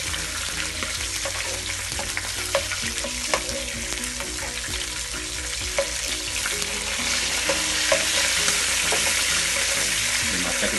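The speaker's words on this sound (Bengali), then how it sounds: "আমি এখন মাছটাকে ভেজে নেবো" A two-foot baim eel sizzles as it fries in a pan, a steady crackling hiss broken by regular light clinks and stirring taps, growing slightly louder toward the end.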